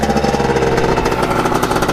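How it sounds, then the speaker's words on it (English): Kawasaki KX 80 big bore two-stroke dirt bike engine running right after being kick-started, a loud, close, rapid chattering exhaust note that is steady and continuous. "Start her up, first kick maybe."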